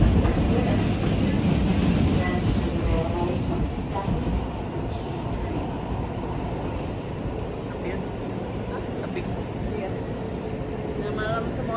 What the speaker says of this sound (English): The train now on the way home.